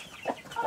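A domestic hen gives two brief clucks in quick succession, close and moderately loud, in a farmyard setting.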